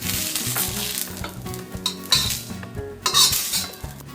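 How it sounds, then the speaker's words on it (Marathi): Onion sizzling and frying on a tava, stirred with a metal utensil that scrapes and clinks against the pan, with steady close crackle and a few louder bursts near the end. "तेल नंतर घातल्यामुळे कांदा छान भाजून होतो"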